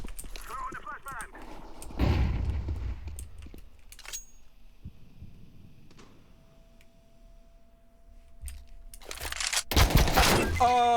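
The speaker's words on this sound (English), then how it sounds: "Throwing smoke. Throwing the flashbang." Counter-Strike 2 gameplay on the map Minnow brings scattered clicks, metallic rattles and a sharp burst of gunfire near the end, with a voice talking over parts of it.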